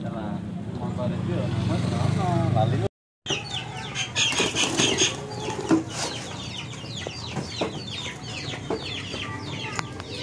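Racing pigeons flapping their wings during a race, a burst of fluttering and clapping wing beats among clucking fowl and people talking nearby.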